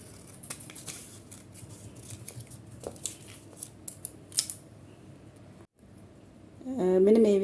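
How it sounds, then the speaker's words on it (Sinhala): Scissors snip through fabric pieces for a skirt in a series of short, crisp cuts at close range, quiet and irregular, with a louder hum or voice rising at the very end. "මේව වෙන් වෙන්නම කපන්න මෙහෙම."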